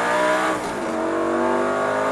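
A Superleggera car on a circuit driving stage accelerates hard at full throttle, its engine a loud, steady, close roar climbing in pitch without a break.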